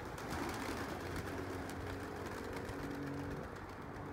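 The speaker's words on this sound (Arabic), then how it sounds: "هسه راح أطير الجوقة ونشوفكم الطيور." Flock of about twenty-five pigeons released to fly from a home loft, a dense continuous rush of flapping wings with faint cooing and background hum, steady and fairly close.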